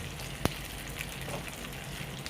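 Curry leaves sizzle in hot oil for a bitter gourd pickle, a steady soft crackling hiss throughout with a single small sharp pop early on, with no one speaking.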